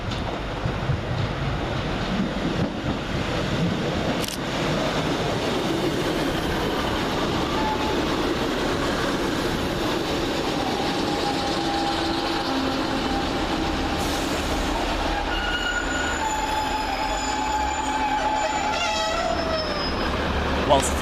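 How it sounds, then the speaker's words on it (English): Northern Rail class 150 diesel multiple units arriving at a station platform, a long steady rumble and rolling noise with wind, rising squeals and tonal brake whines toward the end as the train slows. "Next one to arrive with the 1304 Northern Rail service from Rosehill Marple to Manchester Piccadilly is 150-129 and"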